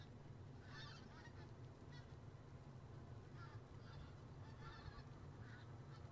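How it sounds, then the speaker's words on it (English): A flock of geese honks in bursts outside Edinburgh airport, the calls fairly distant and repeated over a steady low rumble of wind and background noise. "Sound like geese."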